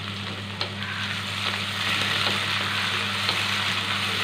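Tomato frying and being stirred in a pan, a steady close sizzle with a low hum beneath and a few soft scrapes of the spoon, no talking.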